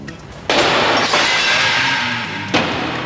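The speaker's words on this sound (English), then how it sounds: "Doors Plus Safe Glass, if broken with extreme force, becomes small granules." A bowling ball smashes into a Doors Plus safety glass door, which breaks into small granules. A loud crash is followed by a long, bright shattering hiss and a second burst of falling glass near the end.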